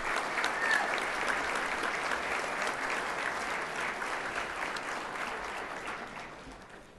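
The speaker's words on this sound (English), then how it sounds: "Let's give them a round of applause" Steady applause from an audience at a Farm Bureau youth contest honoring the winners, a dense wash of clapping that holds for several seconds and slowly tapers off.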